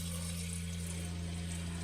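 Running water rinses the rims of canning jars in a small RV kitchen while preparing to pressure can potatoes; a steady, close hiss of flowing water continues alone throughout.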